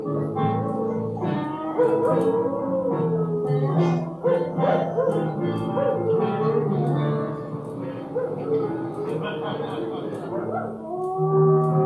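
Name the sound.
dog howling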